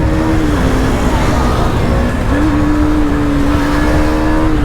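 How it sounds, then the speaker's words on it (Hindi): KTM Duke 250 and 390 motorcycles race side by side, their engines a loud, steady close-up drone whose pitch dips briefly and then climbs again, with constant wind rush throughout. "ड्यूक 250 का और 390 का क्या ही मुकाबला है, आप सबको पता ही है। कोई बात नहीं, हम फिर भी भगाते हैं।"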